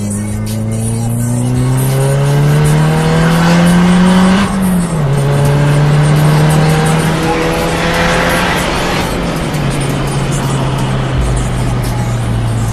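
Turbocharged car on slick tires, fitted with a Descendant turbo kit, accelerating hard on a street through the gears, its loud rising engine note dropping at each shift, heard close and alone.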